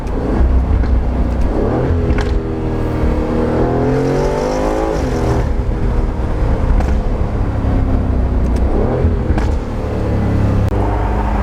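An Aston Martin Vantage F1 engine revs loudly and continuously, with the pitch rising and falling through the rev changes over a steady, heavy rumble.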